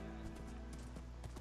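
Horse hooves clip-clopping in Minecraft, a quick run of light, even hoof taps against a steady game background.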